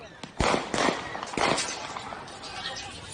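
Sharp, close bangs ring out during a street riot in Kenosha, a few loud cracks within about a second amid shouting voices and crowd noise.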